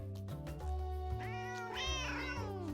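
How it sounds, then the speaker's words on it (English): Several cartoonish cat meows come from the cat-themed adventure video game Cattails: Wildwood Story (demo), with overlapping high, rising calls over a steady synthesized music bed and no talking. "Oh, everybody's meowing!"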